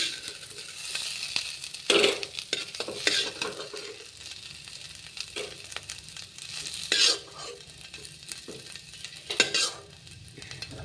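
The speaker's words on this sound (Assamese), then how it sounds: "আলুখিনি অলপ ফ্ৰাই কৰি ল'ম।" Potatoes fry in oil in a pan, a soft steady sizzle broken by several loud scraping stirs of a spatula against the metal, close and alone without speech.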